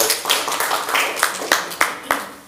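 A small group at a Torah study session claps, the sound thinning to a few sharp, separate hand claps near the end, with a voice faintly present underneath.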